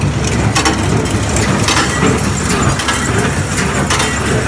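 A hay baler plunger runs at about 1,000 RPM while re-baling hay, with regular crunching, cracking strokes over a loud mechanical rumble, close by and without speech.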